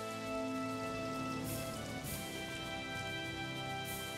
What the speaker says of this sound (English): It is night and it is raining.